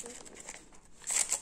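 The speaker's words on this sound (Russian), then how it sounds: "Так, давайте откроем следующий пакет. Сейчас я его разрежу." A plastic blind-bag packet holding a Trolls World Tour toy is cut and opened, giving soft crinkling that builds into louder, sharp crackling of thin plastic near the end, close by with no talking.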